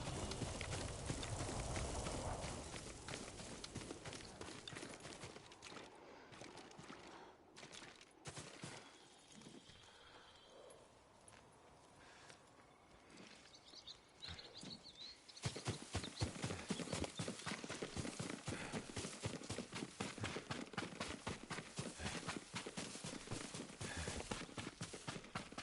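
Steady clip-clop of horse hooves from the video game Ghost of Tsushima, with a brief whinny, continuous throughout and growing louder and busier in the second half.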